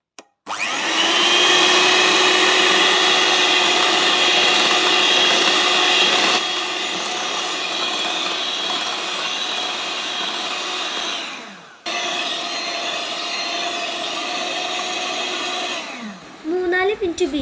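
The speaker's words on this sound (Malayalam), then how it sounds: "ഇനി നമുക്ക് ബീറ്റർ ഉപയോഗിച്ച് നന്നായിട്ട് ബീറ്റ് ചെയ്ത് കൊടുക്കാം." An electric beater whipping marshmallow batter in a bowl, a loud steady motor whir running continuously, dropping slightly in pitch partway, briefly cutting out, then resuming until it stops.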